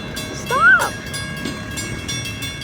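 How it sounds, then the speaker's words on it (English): A train at a railroad crossing in Mexico gives a short rising horn blast, with rumbling rail noise and clattering wagons underneath while people talk nearby. "there's a train coming at this other railroad crossing"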